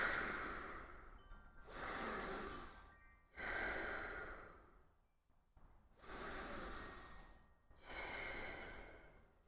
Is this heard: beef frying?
no